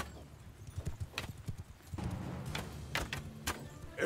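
Cavalry horses in the medieval battle game Mount & Blade II: Bannerlord, hooves clip-clopping in a steady, uneven patter of many strikes, fairly close and loud, with no talk over them.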